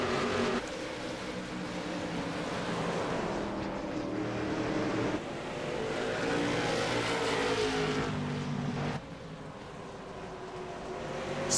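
Race cars roar through turn 1 on a track, a dense, steady wash of engine noise from several cars at once, loud and continuous with brief dips in level as the pack moves past.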